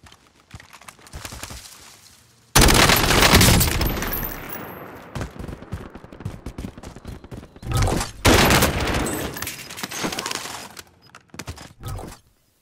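Loud bursts of rapid video game gunfire come in two dense volleys with quieter shots and scattered noise between them. No one talks.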